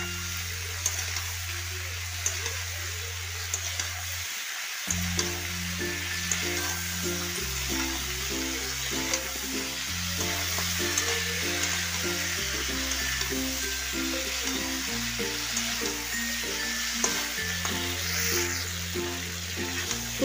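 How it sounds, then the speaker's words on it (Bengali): Cauliflower and potato sautéing with spices in a pan give a steady sizzle and stirring scrape, heard under a looping background music track that runs throughout, with no talk. "এখন আমি ভালো মতন কষিয়ে নেব একটু মশলার সঙ্গে ফুলকপি আর আলুটা।"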